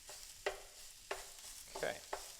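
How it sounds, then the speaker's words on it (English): Food broken into smaller pieces in a skillet over medium-high heat, four or five sharp utensil scrapes and taps over a quiet, soft sizzle, with no talk. "And now we're going to start breaking it into smaller pieces."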